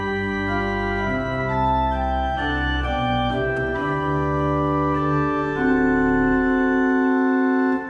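Sustained pipe organ tone, the 1806 Schiörlin organ in Gammalkil playing Mendelssohn on flute 8 and principal 4 stops, a slow melody moving over steady held notes and a deep pedal line, with no talking.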